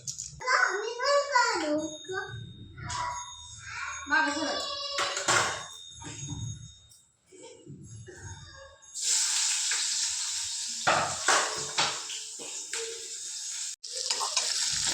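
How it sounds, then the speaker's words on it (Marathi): Onion crackles and sizzles in hot oil tempered with cumin and mustard seeds, a steady frying hiss rising loudly in the second half after a child and an adult talk over quieter kitchen sounds. "आता मी तेलात जिरं मोहरी फोडणी देऊन कांदा टाकलाय आहे"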